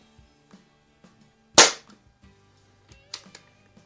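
A Crosman 1701P air pistol fires RWS R10 wadcutter pellets in a garage, two sharp cracks about a second and a half apart, with faint clicks and handling noises between them.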